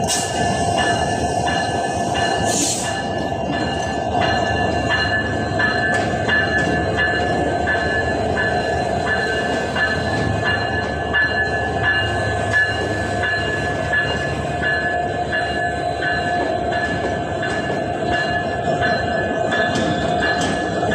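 A train at Kamalapur railway station gives a loud, continuous rumble with sustained tonal whine and a brief sharp burst early on, with no voices over it.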